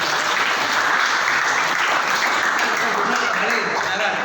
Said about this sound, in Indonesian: Oke, tepuk tangan untuk Ais.